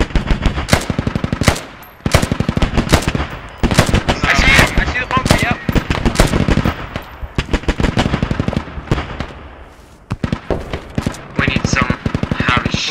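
Machine gun fire in the military shooter game Squad during an attack on a quarry, with rapid sustained automatic bursts and a few pauses, loud and close, mixed with other gunfire and with players talking over it.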